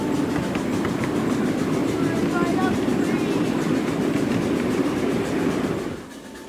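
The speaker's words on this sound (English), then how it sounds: "The train then headed uphill for a bit" Train running on rails at a steam and power show, a steady close rumble of wheels on track with faint clicking, continuous until it drops away abruptly at the end.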